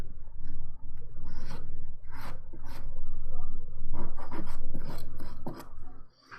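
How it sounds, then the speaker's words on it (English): Close, steady rasping of a curved file buffing dip powder nails during a manicure, a run of repeated back-and-forth strokes with brief pauses and no talk. "And then I buff everything out to make sure that it is nice and smooth."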